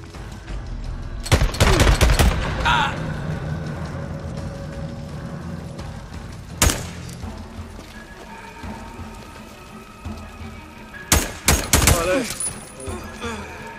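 Gunfire in the Days Gone video game during an ambusher camp fight, loud scattered volleys of close shots in bursts near the start, middle and end, with quieter ambient stretches between.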